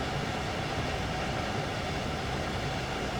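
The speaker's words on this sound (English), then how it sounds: "certainly the sounds that this train makes is different from the sounds that other trains make" A German train in Train Sim World 2 runs along the tracks, giving a steady, loud rumbling rail roar with a continuous wheel-on-track drone and no speech.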